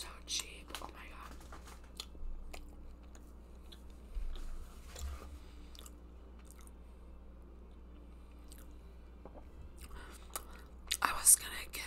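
Close, soft chewing and biting of Panda Express food, with faint crunches and quiet mouth sounds over a low background hum and occasional whispering.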